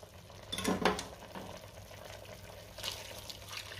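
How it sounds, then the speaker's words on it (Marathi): Hot water is poured from a plate into chicken rassa curry as it cooks, a short splashing burst followed by a low, steady simmer and stirring sounds. "आता हे ताटावरचं पाणी आपल्याला चिकनमध्ये घालायचं आहे"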